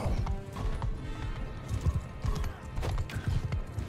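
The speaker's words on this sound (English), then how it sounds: "Run, my horsey." A horse galloping in the medieval battle game Mount & Blade 2: Bannerlord, rapid rhythmic hoofbeats pounding close and loud for several seconds amid faint battle noise.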